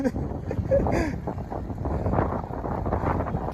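Headwind rushes past while cycling, a steady low wind roar buffeting the microphone for a few seconds, with a faint voice speaking briefly.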